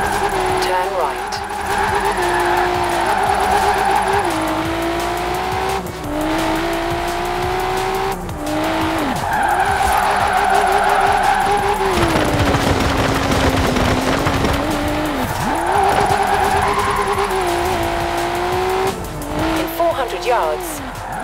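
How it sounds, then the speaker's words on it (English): Tires squealing continuously as a car drifts in Forza Horizon 4, with a loud revving engine rising and falling through gear shifts and long sustained skids, under an occasional voice. "Now let's really shred those tyres."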